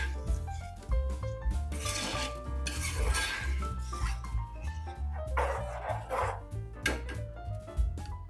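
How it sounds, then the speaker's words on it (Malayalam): Tomato-mango curry stirred in a pot with a spoon, giving repeated scraping and rubbing strokes against the metal at a steady pace, with a tonal background running underneath. "നല്ലോണം ഒന്ന് മിക്സ് ചെയ്യാം."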